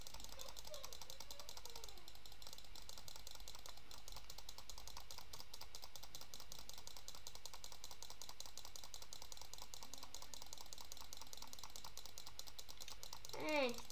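Fast, steady clicking runs throughout as someone buys rebirths in the Roblox game Speed Simulator, quiet and close, with only a brief voice sound near the end.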